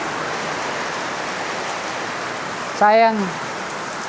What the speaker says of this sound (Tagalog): Magka-camping na sana tayo pero lakas ng ulan, sobrang lakas ng ulan.